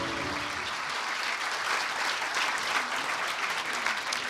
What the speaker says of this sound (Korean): 귀중한 말씀해 주신 대통령님께 다시 한번 뜨거운 박수